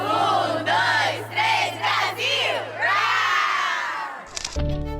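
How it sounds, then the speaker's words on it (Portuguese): A Brazilian rhythmic gymnastics group team shouts its battle cry in unison, loud and close, in a run of rhythmic chanted bursts that build to one long sustained shout before a brief ringing tone at the end. "E sem o grito de guerra das leoas."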